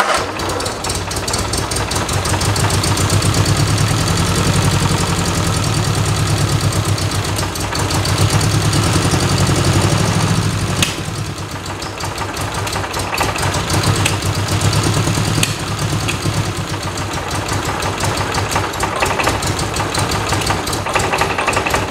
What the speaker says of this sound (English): I'm gonna try starting it again and see if it'll stay running or if it burns that fuel out and that's it.